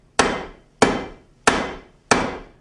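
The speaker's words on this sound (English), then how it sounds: "Let's see if I can break with a hammer the AAC block" Four evenly spaced, loud hammer blows land on an autoclaved aerated concrete block, each a sharp close impact with a short decaying ring, alone with no talk.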